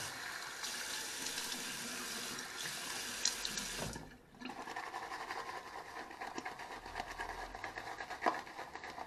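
Water runs and splashes steadily from a tap into a shaving bowl during a wet shave, a continuous close hiss that briefly dips before resuming.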